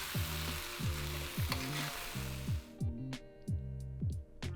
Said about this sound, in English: Add the steak back to the wok and stir it through to coat it in the sauce